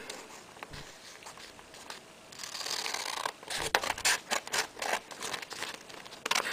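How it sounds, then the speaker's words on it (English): Scissors snip through excess paper, trimming a folded sheet square for an origami crane; a run of close, crisp cuts and rustling paper follows a quiet start. "then you can cut off this excess paper so that we have a square piece of paper"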